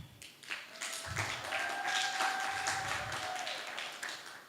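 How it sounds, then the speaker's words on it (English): An audience at a graduation ceremony clapping their hands, a fairly even patter of claps with a faint tone ringing beneath it. "I want you to give yourself a very loud hand clap."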